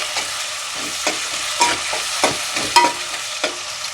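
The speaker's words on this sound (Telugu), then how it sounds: "ఇందులోనే కొద్దిగంత అల్లం వెల్లిపాయ పచ్చివాసన పోయాక మనం ఫ్రై చేసుకుందాం." Ginger garlic paste fries with onion in a pan, a bright close hiss overlaid by a handful of sharp spatula scrapes spaced about half a second apart.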